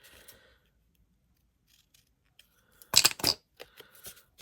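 Scissors snip through cardboard while trimming a handmade tall, skinny journal, a quick burst of close crisp cuts after near silence, followed by a few lighter clicks.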